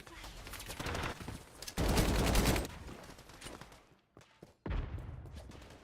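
Video game gunfire in rapid bursts, with a dense, loud stretch of shots near the middle, a short lull, and a fresh burst at the end.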